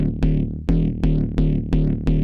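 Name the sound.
randomized Massive X synthesizer patch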